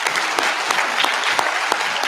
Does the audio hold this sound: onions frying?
no